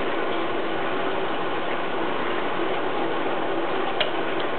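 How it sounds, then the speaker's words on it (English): Spark igniter on a homemade Babington ball waste oil burner, rapid rhythmic ticking under a steady loud roaring hiss, with one sharper click near the end. "That spark will stop in a second."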